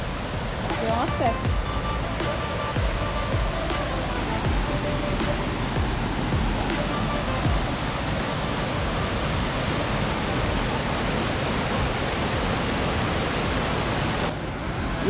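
Steady, broad rushing water roars continuously close by from the top of a waterfall on the Dois Dedos trail in Treviso, Santa Catarina, Brazil, with a faint voice or two briefly rising above it near the start.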